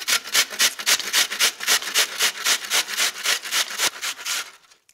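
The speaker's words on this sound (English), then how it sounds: "I'm gonna take my handy dandy box grater and I'm going with a Spanish onion" A Spanish onion is rubbed against a metal box grater in quick, even rasping strokes, about four per second, close and crisp, tapering off at the end with no talking.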